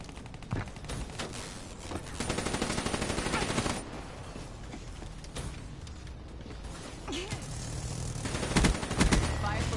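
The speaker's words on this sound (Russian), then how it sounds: "это вообще стреляют с беспилотника" Rapid automatic fire from a drone in Call of Duty: Black Ops III multiplayer comes in bursts of crackling shots amid game effects, with a voice speaking briefly.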